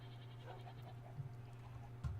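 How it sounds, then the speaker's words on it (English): A Minecraft goat gives faint, soft bleats over a low steady hum, a couple of brief calls toward the end, with no voices. "Where's the goat? You have a barn goat."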